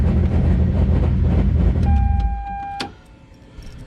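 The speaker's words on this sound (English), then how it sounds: "Hear the fuel pump still running, and it's off." Fuel pump running in a Toyota Supra, heard as a steady mechanical hum and whir that drops off partway through, followed by a brief high whine and a faint click, with quieter background noise after.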